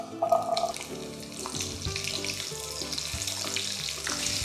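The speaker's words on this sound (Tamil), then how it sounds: "எண்ணெய் காஞ்சிருச்சு. சின்ன வெங்காயம் இதுக்குள்ளே சேர்த்துடலாம்." Shallots dropped into hot oil for a mutton masala, a brief clatter followed by a steady close sizzle and crackle that continues throughout.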